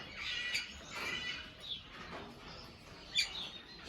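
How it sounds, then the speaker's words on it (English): Wild birds squawk and chirp near an aviary housing African grey parrots, scattered calls at moderate distance over a steady outdoor background. "Oh, we're having wild birds."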